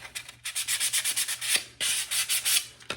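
Paint on a truck body is sanded for a patina finish: rapid, rhythmic scrubbing strokes close up, broken by two short pauses, with no talk.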